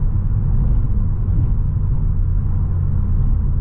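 Inside a Volkswagen Scirocco on the move, a steady low engine rumble mixes with road noise, a close, even drone that stays constant throughout with no voices.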